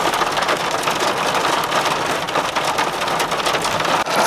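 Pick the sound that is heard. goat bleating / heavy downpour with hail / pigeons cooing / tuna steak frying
heavy downpour with hail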